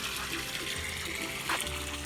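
Steady trickle and splash of water rising through a sponge in the mechanical filter of a homemade above-ground backyard fish pond, a continuous close wash with a slightly louder gurgle near the end.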